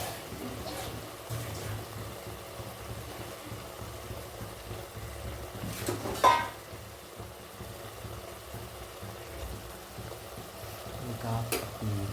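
Tomatoes sauté in a pan for tomato rice, a low, even sizzle with occasional stirring scrapes and a brief louder clatter in the middle.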